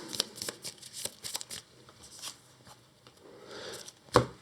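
A deck of game cards is shuffled by hand, close and fairly quiet, a rapid series of papery riffles and taps with a sharper snap near the end.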